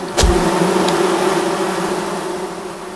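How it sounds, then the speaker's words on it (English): Bees buzz in the Among Trees video game near Pinewood Lake, a steady droning hum that continues without pause, with a brief thump near the start. "So I can hear the bees."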